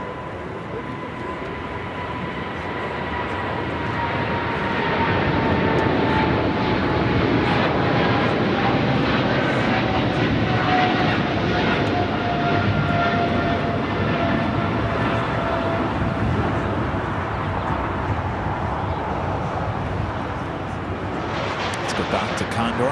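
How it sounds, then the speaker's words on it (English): Eva Air Cargo Boeing 777 freighter taking off from the south side at Los Angeles International, a loud sustained jet roar that builds and holds steady throughout, with a steady engine tone and faint talk underneath. "Eva Air Cargo, the 777 freighter, now taking off here on the south side."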